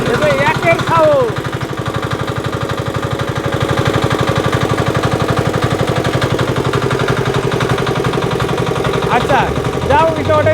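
A used Saifeng Changchai diesel engine idles loudly up close, a steady rhythmic chugging throb that continues unbroken while voices talk over it.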